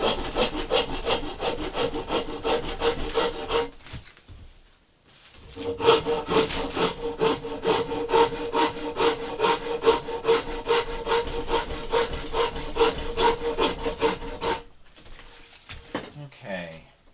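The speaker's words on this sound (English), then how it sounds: "I'm going to rasp that off." A wood rasp shapes a carved boat half hull model held in a vise, giving steady rhythmic rasping strokes, close and loud, with a brief pause midway and a short stop near the end.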